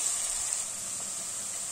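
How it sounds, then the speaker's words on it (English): Onions, carrots and potatoes sizzle gently in olive oil in a pan, a soft steady hiss with no talking. "just fry them gently in this olive oil"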